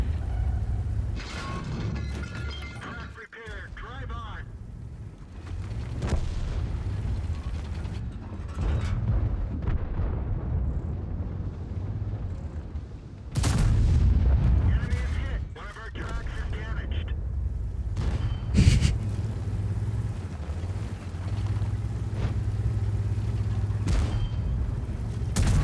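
T110E3 tank destroyer firing its cannon in World of Tanks, with a couple of heavy booms amid engine rumble and mechanical clatter while someone talks throughout.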